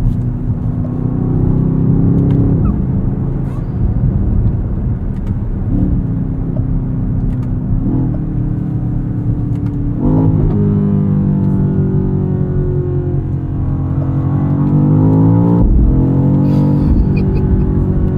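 2024 BMW XM Label Red hybrid accelerating hard, a loud steady engine drone rising in pitch through several gear shifts, heard from inside the cabin with faint talk.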